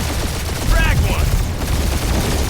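Gunfire crackles through a firefight in the Guardians of the Galaxy video game, dense bursts over a constant din of battle noise, with voices calling out briefly over it.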